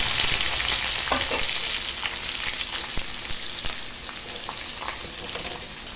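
Onion pieces dropped into a hot tempering of chana dal and seeds for a potato curry sizzle and fry in oil, a steady loud hiss broken by occasional stirring clicks, with no talk.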